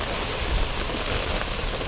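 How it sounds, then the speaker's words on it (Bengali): Heavy rain pours steadily and loudly over a garden with cactus and mango trees, a dense unbroken wash of falling water with no voices. "প্রচুর বৃষ্টি প্রচুর বৃষ্টি আজকে"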